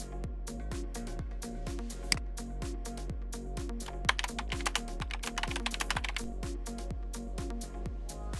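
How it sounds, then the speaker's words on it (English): Someone types on a computer keyboard at a console, producing a quick run of crisp, close key clicks of varying loudness over a constant low electrical hum. "then type anything on the console."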